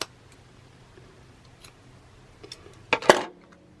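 Scissors snip through neutral-colored twine for a Dollar Tree photo frame craft, a quiet room with faint ticks before one sharp, close cut near the end.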